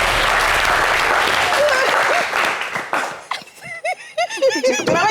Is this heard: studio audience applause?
yes